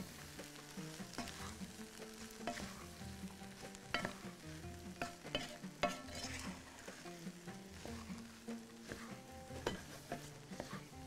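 Bahraini macaroni stirred in a pot over low heat, a continuous soft sizzle with repeated scraping and clinking of a spoon against the pot, close and steady, no speech.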